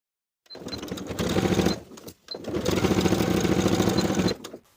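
A sewing machine stitches welt lining to the welt of carpenter pants in two steady runs, the second longer, with a brief pause between them.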